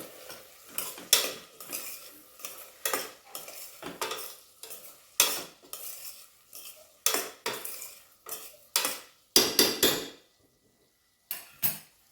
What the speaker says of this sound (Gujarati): અને 1 ટીસ્પૂન જેટલું લાલ મરચું અને સ્વાદ મુજબ મીઠું એડ કરીશું અને ફરીથી એકવાર હલાવી લઈશું